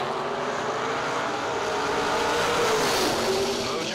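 A drag-racing Corvette Roadster and a '68 Dart launch at a summer strip event, their engines a loud, sustained roar that swells slightly as the cars pull away, with no voices.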